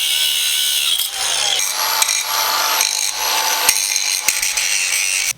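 An angle grinder with a cutting disc slicing through metal on a Minimax cargo bed, loud and close, its harsh whine rising and falling as the disc bites in short passes.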